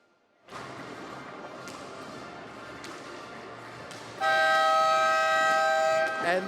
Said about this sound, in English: And there's the siren, ready to start play.